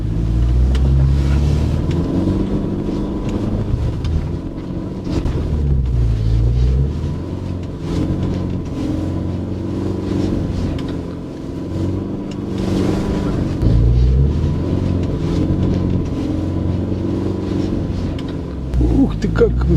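A UAZ Patriot SUV with automatic transmission climbs a slippery hill in low-range second gear, its engine droning steadily and loud from inside the cab, with someone talking over it throughout.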